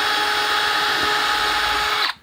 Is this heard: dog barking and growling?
no